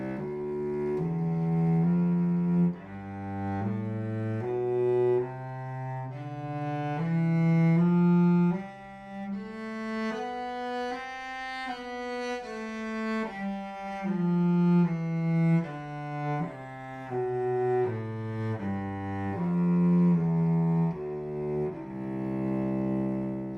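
Cello playing a slow beginner exercise, sustained bowed notes stepping across strings with changes in the middle of each bow stroke, close and steady with no talking.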